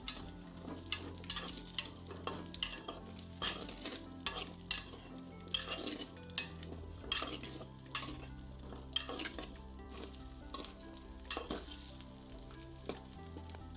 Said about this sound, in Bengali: এবার গরম তেলের মধ্যে মাঝারি সাইজের কেটে রাখা দুটি আলু দিয়ে দিচ্ছি।